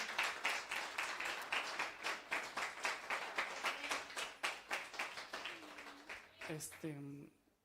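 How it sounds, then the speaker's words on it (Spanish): A congregation at a Spanish-language prayer-house service claps strongly in a steady, fast rhythm for several seconds. The applause fades near the end as a voice begins singing or speaking. "Le damos un fuerte aplauso al Espíritu Santo."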